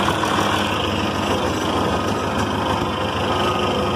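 A John Deere 4020 power shift tractor running a Deere 337 square baler while baling second-cutting hay: a loud, steady engine drone with a dense mechanical rumble, unbroken and close, with no talking.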